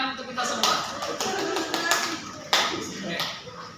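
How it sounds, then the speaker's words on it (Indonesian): A small counseling group claps together after a concentration game, irregular close-up hand claps and taps with a few louder bursts, mixed with talk. "Oke, tepuk tangan untuk kita semua."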